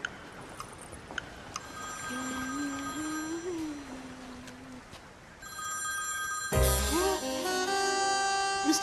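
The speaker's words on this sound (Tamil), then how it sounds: "இரு நான் ஃபோன் பண்றேன்." A telephone rings in a comedy film climax scene, sounding repeated electronic ring tones over background music, with a sudden louder burst of score near the end and brief voices.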